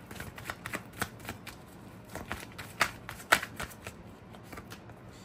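Tarot cards being shuffled by hand, a steady run of soft riffling flicks and sharper snaps near the listener, with a few louder slaps partway through, heard alone without speech.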